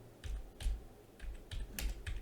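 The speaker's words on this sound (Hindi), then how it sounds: "यहाँ पे हम टाइप कर लेते हैं डॉर्मर" Close, steady typing on a computer keyboard as a search is entered, with soft clustered keystrokes in quick uneven bursts.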